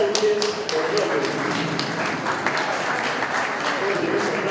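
Applause at a graduation ceremony for motorcycle and vehicle mechanics students, close and fairly loud clapping with some sharper taps standing out, continuing for several seconds.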